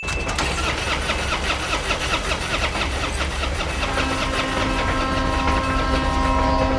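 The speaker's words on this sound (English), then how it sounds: "Car stopped on railroad tracks refuses to start as a speeding train approaches" A loud, continuous rumble of a speeding train approaching a car stalled on railroad tracks, with metallic rail clatter and screeching, dense and unbroken throughout.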